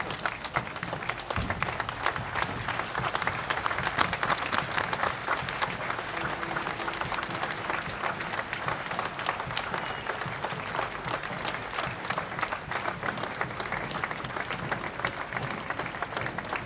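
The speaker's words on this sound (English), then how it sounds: "applause has broken out" Steady, dense applause rolls from a large outdoor crowd lining the route of a royal coffin procession from Buckingham Palace to Westminster Hall, sustained and even at a moderate distance.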